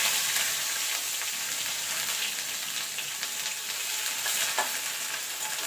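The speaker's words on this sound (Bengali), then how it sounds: "একটা তেজপাতা ছিঁড়ে, দুটো শুকনো লঙ্কা আর দিয়ে দেবো গোটা জিরে, একটুখানি আদা কুচি দিয়ে দেবো।" A tempering of torn bay leaf, dried red chillies, whole cumin and chopped ginger sizzles loudly in hot oil for pea lentil dal, a dense, continuous close-up crackle with faint stirring, no voices.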